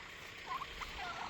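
Turkeys gobbling on a farm near a duck pond, a few short, faint calls at middle distance over a steady background hiss.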